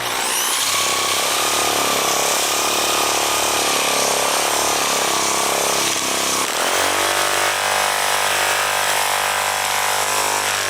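An electric sander grinds across soft, low-density pine, a loud continuous high-pitched whine whose tone shifts and deepens partway through as the pad presses into the wood, with no speech.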